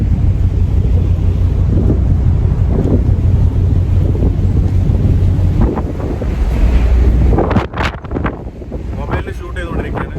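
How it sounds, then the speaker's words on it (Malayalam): Strong wind buffets the microphone over a steady roar of waves on the deck of a ship at sea during heavy rain, loud and continuous, with gusts breaking up near the end. "നല്ല കാറ്റ് വരുന്നുണ്ട്"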